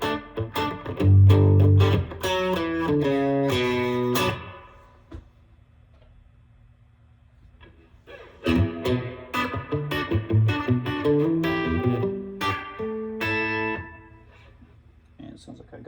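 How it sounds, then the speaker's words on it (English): Electric guitar played through an amp with reverb turned up and tremolo off: two phrases of ringing strummed and picked notes with a wet, sustained tail, separated by a few seconds of near silence. "Gonna have to turn off the tremolo and dial my reverb back up higher."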